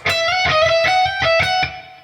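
A distorted electric guitar plays a short lick, quick ringing notes with sustained overdriven tone, heard alone and fairly loud.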